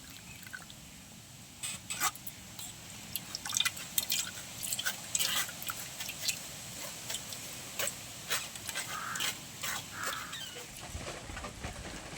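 Rice grains being stirred slowly in a little water inside a mixer jar for biryani, giving soft wet drips and light knocks that come in scattered bursts, close and quiet.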